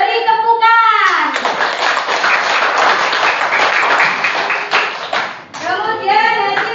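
Children in a classroom clap for a student discussion group, a lively burst of applause between spoken phrases, with a voice talking before and after the clapping.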